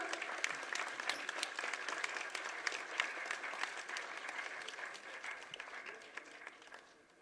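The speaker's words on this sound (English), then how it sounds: "Please give a round of applause" An audience at a school Foundation Day celebration applauds prize winners, a dense, fairly distant patter of many hands that stays even and then fades away at the end.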